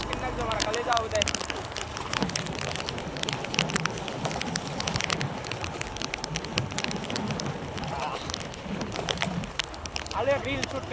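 Steady heavy rain pattering and crackling on surfaces, close and continuous throughout, with a voice talking in the background.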